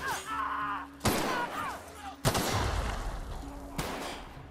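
Gunfire from The Outer Worlds video game, with three sharp, loud blasts spaced about a second apart, each followed by a rumbling tail, over quieter game sounds and a voice in the background.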